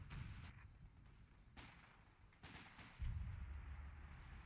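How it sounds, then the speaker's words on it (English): Artillery fire in the WWII strategy game Battle for Caen: several sharp booming impacts spaced a second or so apart, with a heavier low rumble near the end, over a steady battle background. "Some artillery going down."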